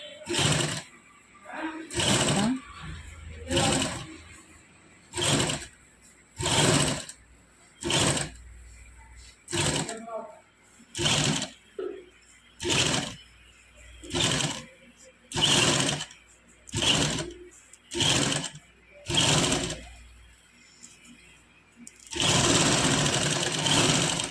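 A sewing machine stitches a neck design onto a kameez in repeated short bursts of whirring, about a dozen runs with brief pauses between, close and loud, ending in a longer continuous run.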